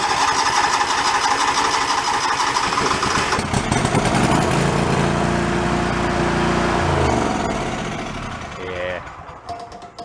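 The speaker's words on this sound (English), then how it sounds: "Let's go to full throttle." A flooded John Deere lawn tractor engine with carburetor trouble roars steadily near full throttle, then wavers, slows and sputters down toward the end of the clip.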